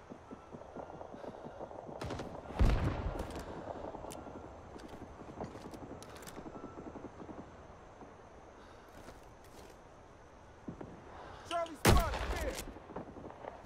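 Gunfire in the Vietnam-era shooter Rising Storm 2 on Dong Ha, scattered distant shots over a low background hum, with two sharp, louder cracks standing out near the start and near the end.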